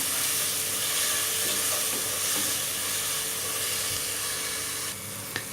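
Ginger garlic paste for chicken biryani frying in a pan, a steady loud sizzle and hiss throughout with faint stirring scrapes, no talking.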